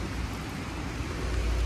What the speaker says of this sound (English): so rainy today.